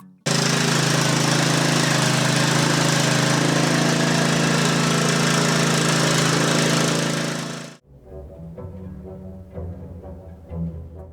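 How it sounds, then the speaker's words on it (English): Small engine on a homemade DIY thunderstorm generator runs loud and steady for about eight seconds, then cuts out abruptly, leaving only quieter scattered rattles and knocks. "Adjust the choke along with the idle screw and the governor adjustment screw and tune the engine to run smoothly further by ear."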